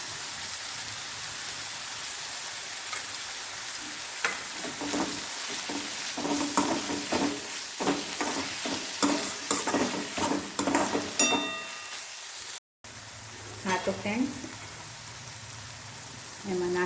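Manchurian stir-fried in a pan with sauce being added, giving steady sizzling and frying crackle with stirring scrapes, close and fairly loud, with a brief gap near the end.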